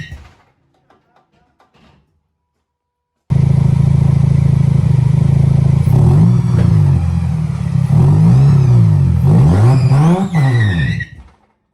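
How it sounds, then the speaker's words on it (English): Mazda 13B Renesis rotary engine with a bridgeported exhaust, on 20 by 10.5 wheels, struggling to spin them: it bursts into a loud, close rev and then surges up and down in repeated swells before cutting off. "I think I'm going to be asking a lot of this car to actually spin those wheels."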